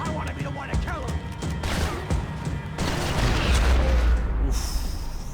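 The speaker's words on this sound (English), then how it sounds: "Gunfire over Hoboken." Rapid bursts of gunfire and heavy impacts from Max Payne 3 on PC crash through a noisy, dense mix, with a voice briefly heard amid the chaotic battle sounds.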